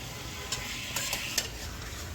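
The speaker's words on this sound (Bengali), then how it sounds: "খুন্তি দিয়ে বন্ধুরা আমি এভাবে নাড়াচাড়া করছি" A spatula stirs chicken curry with potatoes in a pan over a gas flame, making a few sharp scrapes and taps over a steady, close sizzle.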